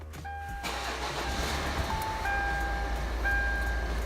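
Car engine cranking and catching into a steady idle, a brief starter whir followed by a low rumbling hum, with soft electronic chimes sounding over it, heard close.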